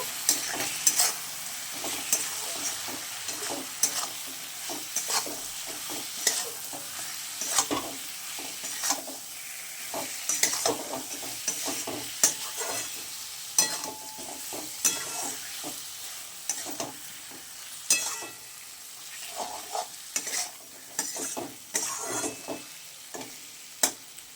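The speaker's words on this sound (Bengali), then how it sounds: "এইবার এটাকে খুব ভালো করে কষিয়ে নেবো" Chilli masala with turmeric sizzles in a pan while a spoon stirs and scrapes it steadily, producing repeated soft scraping strokes and clinks over a continuous low frying hiss, with no talking.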